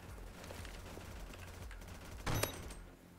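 A three-shot gun fires in the video game Mayday as one short, sharp burst of shots over a quiet background hum.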